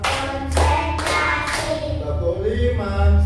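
Children clapping in counted claps in a classroom: a few sharp, loud bursts of hand claps spaced about half a second apart, the sound of many hands together, with chanting voices in between.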